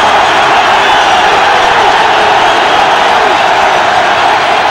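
A football stadium crowd at a 1991 Big Ten game between Indiana and Purdue roars in a steady, dense wash of cheering, loud and continuous throughout without a break.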